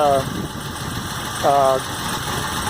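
A 1980 Mercedes-Benz 280TE engine idles steadily with a busy mechanical ticking clatter from its mechanical lifters, while a person talks over it in short phrases.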